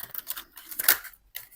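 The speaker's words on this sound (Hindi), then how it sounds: "थोड़े से कार्ड्स में शफल करूँगी" Tarot cards are shuffled by hand in a few quick, papery riffles and flicks, close and crisp, then a short pause before one last brief shuffle.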